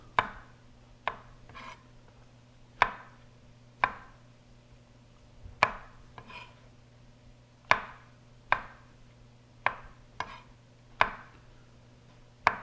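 A knife chops Kalamata olives in half on a cutting board, about a dozen sharp, separate knocks at an uneven pace, close and clear over a steady low hum, with no talking.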